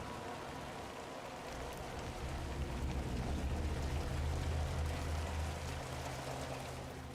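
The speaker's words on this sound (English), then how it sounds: "I hear rain, but I don't see rain." Steady rain falls in a video game trailer, a dense, even wash of drops that swells slightly and holds at a constant level throughout, with no voices over it.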